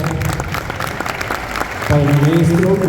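Crowd applause at a book presentation honoring a teacher, clapping that fills the first part, then a voice begins speaking over it near the end.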